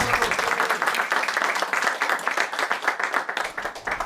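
A theatre audience claps for a performer named Cédric, crisp, fast individual hand claps blending into lively applause that runs steadily and close for about four seconds.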